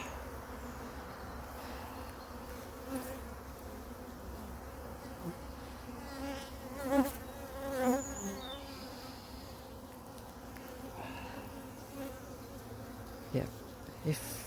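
Bees buzz steadily around a hive, a dense droning hum with individual insects swelling louder as they pass close.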